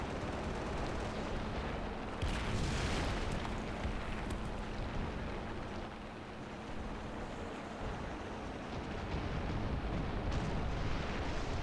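Rapid tank cannon fire in War Thunder, a Russian tank firing repeated booming shots over a dense, continuous rumble of battle noise.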